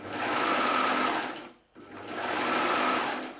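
A sewing machine stitches a fabric belt in two loud, close runs of rapid, even needle chatter, separated by a brief pause in the middle.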